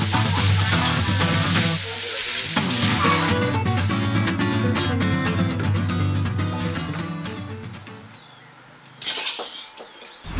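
Ash gourd filling for pempek cooks with spices in a pan, a loud, steady sizzle and frying hiss with scraping stirs throughout, fading slightly before a brief renewed burst at the end.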